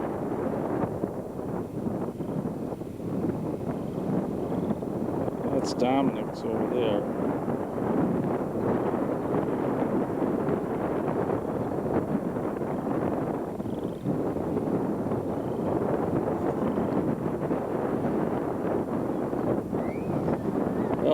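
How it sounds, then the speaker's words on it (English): Wind buffets the microphone with a constant low rumbling roar throughout at a construction site, while a person briefly speaks under the noise. "Real windy today."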